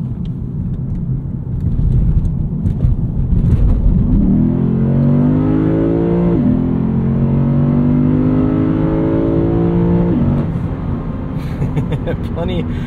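A 2023 Lexus IS 500 merges onto a highway under hard acceleration, its engine note climbing loudly through two gear pulls with a brief dip at the shift, then easing off at the end.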